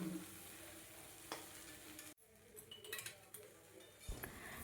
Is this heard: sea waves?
no